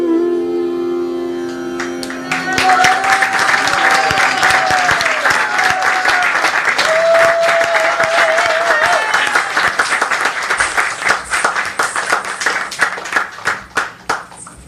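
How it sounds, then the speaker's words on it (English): An audience at a Janmastami celebration breaks into applause after a performance, starting as the last sustained singing and music notes fade, then swelling into loud, dense clapping that thins into a few separate claps at the close. "One more round of applause for the beautiful Radhika."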